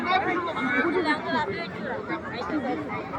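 A crowd of spectators gathers on a high school ground to watch a landed helicopter, with a steady babble of many voices chattering close by.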